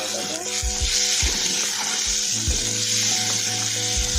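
Ground cumin, coriander and garam masala powders sizzling loudly in hot oil in a pan, a dense continuous hiss with a few soft knocks of stirring, close and with no talk.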